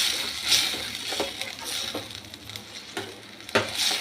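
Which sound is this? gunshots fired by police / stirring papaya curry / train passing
stirring papaya curry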